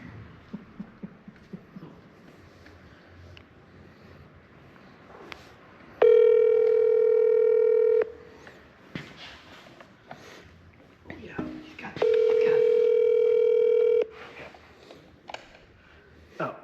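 Speakerphone call heard as two long, loud two-second ringback tones with harmonic buzz, separated by a few seconds of muffled talk and background noise.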